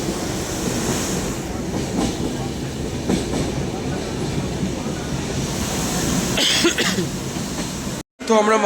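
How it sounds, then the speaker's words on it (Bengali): A moving passenger train leaving Farakka, a continuous rumbling roar with a rhythmic clatter of wheels on track, heard from on board, steady and fairly loud, with a brief cut near the end. "ট্রেনটা ফারাক্কা থেকেও ছেড়ে দিল।"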